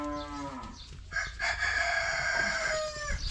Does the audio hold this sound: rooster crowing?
yes